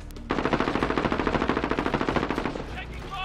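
Rapid automatic gunfire in Call of Duty Warzone, a loud, steady stream of close shots firing in quick rhythm for about three seconds with no talk over it.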